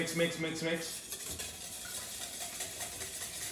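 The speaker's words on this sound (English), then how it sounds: "So I'm gonna mix." A whisk or spoon stirs an egg into a sweet dessert batter in a bowl, giving continuous wet scraping and light clinking against the sides, close and moderately quiet.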